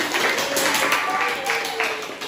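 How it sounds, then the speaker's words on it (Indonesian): Classroom applause for a student who has just read a speech, a steady wash of many hands clapping at moderate loudness with faint voices mixed in. "Tepuk tangan dulu untuk Hifni."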